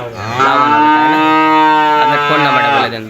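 A bull at a Bangladeshi cattle market gives one long, loud, close moo that lasts most of three seconds, with a deep drawn-out tone and faint background noise.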